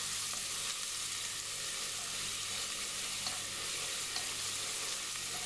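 Garlic paste and chicken frying in a pan as they are stirred, a dense, continuous loud sizzle close by with no talking.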